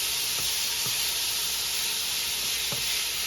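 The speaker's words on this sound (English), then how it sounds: "Now that we have the chicken in, I'm just going to sear it." Chicken pieces searing in a pan for a curry, a dense steady sizzle and hiss with a few soft bumps of the meat or utensil shifting, close and continuous.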